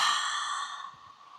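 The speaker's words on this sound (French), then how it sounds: "J'inspire. Expire par la bouche." A single long exhale through the open mouth during a beginner yoga breathing exercise, soft and breathy, fading gradually over about a second, close and alone.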